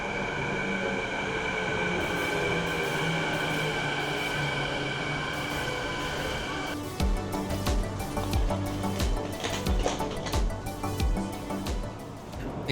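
A commuter train arriving at a Vancouver platform rumbles and hums steadily, then rhythmic wheel clatter and squeals come in as it rolls in close, with no talking.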